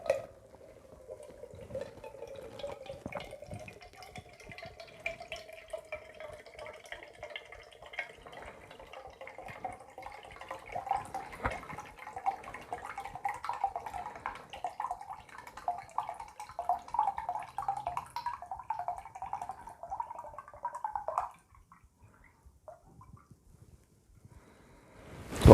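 Water from a sphere is poured into a cylinder, a steady trickling pour with a rising pitch as the vessel fills, lasting about twenty seconds before stopping abruptly.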